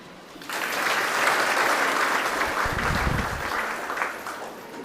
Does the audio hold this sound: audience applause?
yes